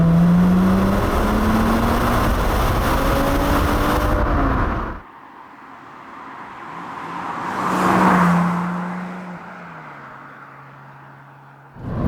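An MG ZS 180 with its V6 engine revs hard in a loud, rising drone that cuts off abruptly, then a quieter passing swell and a steady idle-like tone follow.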